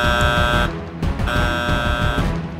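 A toy Paw Patrol lookout sounds a loud, buzzing, horn-like alarm in two sustained blasts with a short break between them.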